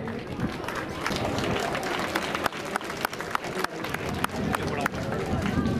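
Applause from the crowd at the closing ceremony of a school under-14 boys' tournament: dense, steady clapping with scattered sharp claps, continuing for several seconds with crowd babble mixed in.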